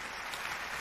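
Cheering and clapping from a crowd of cartoon ants in an animated film, a dense broadband wash of applause held steady and fairly loud for under a second, with no voices picked out.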